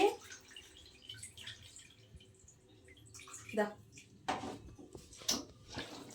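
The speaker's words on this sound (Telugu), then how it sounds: "చింతపండు పులుసు అయితే పోస్తున్నానండి" Hot tamarind soup (chintapandu pulusu) is poured in a home kitchen, making soft, intermittent splashes and drips that are faint and spaced apart against a quiet background.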